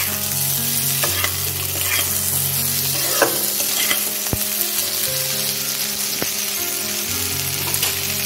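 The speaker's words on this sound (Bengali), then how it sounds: "টমেটোটা দিয়ে আমি আর একটুক্ষণ ভেজে নেব।" Chopped tomatoes fry and sizzle in a pan for dahi kofta, a steady crackling hiss broken by occasional scrapes and stirs of a utensil.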